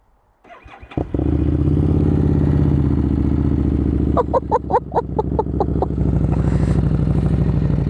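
A Harley-Davidson Street Rod 750 with a Vance & Hines exhaust and no baffle fires up after a brief starter whir and settles into a loud, deep, lumpy idle, punctuated by a series of quick sharp throttle blips.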